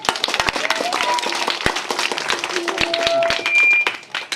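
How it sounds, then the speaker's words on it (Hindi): An audience at a village gathering claps in scattered, uneven bursts, individual hand claps sharp and distinct rather than a dense roar, mixed with faint background voices and a brief tonal sound near the end. "ताली मार दो जगह ताली।"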